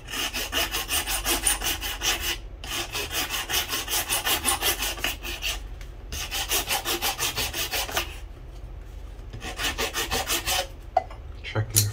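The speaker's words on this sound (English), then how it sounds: "Right now, we can file it down with this steel scraper." A steel scraper files down a wooden violin bridge in steady, rhythmic rasping strokes, close and clear, broken by a few brief pauses.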